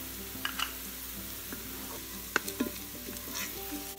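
Whole garam masala spices, peppercorns, cloves, cinnamon sticks and cardamom pods, sizzling in a Ninja Foodi, a faint steady hiss with occasional light clicks and taps of stirring.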